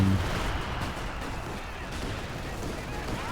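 Rifle grenades fire in a World War II strategy game alongside 6-pounder support, a dense, continuous wash of booming gunfire and explosions from the battle.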